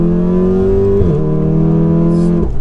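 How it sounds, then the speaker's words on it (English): An Audi RS6 engine revs loudly and steadily, its exhaust note holding a strong drone, dipping briefly at one point, then dropping off near the end. "Doesn't sound unnatural, does it, the exhaust?"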